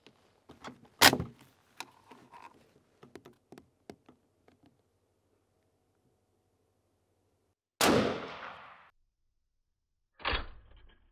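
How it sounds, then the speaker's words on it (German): An M95 rifle fires one loud, sharp shot near the eight-second mark. A second, shorter report follows about two and a half seconds later. Before the shots come light clicks and handling noises, with near-silence in between. "Wir wollen aber schießen, deswegen lassen wir ihn drinnen."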